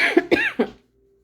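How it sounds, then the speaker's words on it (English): A single person coughs several times in quick succession, three sharp close bursts that stop abruptly, followed by near silence with a faint steady hum. "I'm sorry, I had to cough."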